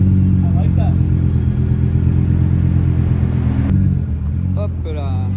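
A supercar engine turns over and fires up outside on a public square in Beverly Hills, a deep steady rumble with bursts of revving, while voices chatter over it nearby.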